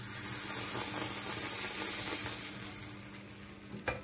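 Rice flour batter for Bangladeshi chitoi pitha sizzling steadily in a hot pan, a dense close hiss that fades slightly toward the end before a few brief clinks.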